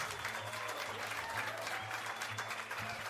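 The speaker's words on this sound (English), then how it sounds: "a huge round of applause for that story" An audience gives a steady round of applause after a story at a talk show, a continuous, fairly faint wash of many hands clapping, with soft voices beneath.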